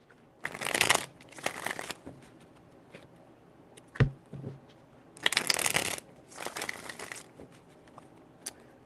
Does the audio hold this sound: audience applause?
no